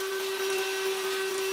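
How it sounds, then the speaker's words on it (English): A VacLife VL726 handheld vacuum cleaner runs steadily, a loud, constant motor whine with airy rushing noise that holds at an even level throughout, no voices. "this VacLife hand vacuum is powerful enough to almost get everything"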